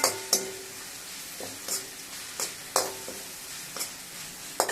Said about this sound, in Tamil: இப்போ கருவேப்பிலை கூட இப்போ எண்ணெயிலே போட்டுட்றேன்